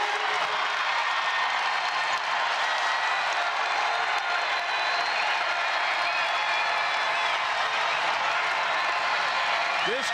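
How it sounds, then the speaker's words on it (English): At Iowa State's Hilton Coliseum during a women's basketball game against Oklahoma State, a packed arena crowd roars in a steady, dense wall of cheering, with a commentator talking over it. "This crowd is erupting."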